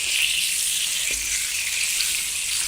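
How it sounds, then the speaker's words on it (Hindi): Dry fruits, including dates for a laddu, fry in oil in a pan, giving off a bright, continuous sizzle with a faint low knock partway through. "सिर्फ 2 से 3 मिनट ही हमने इसे ऑयल में फ्राई करना है"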